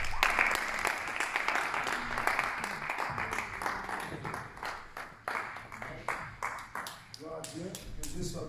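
A church congregation claps steadily through a sustained round of applause, dense overlapping hand claps with shouts and voices mixed in, thinning to scattered claps near the end.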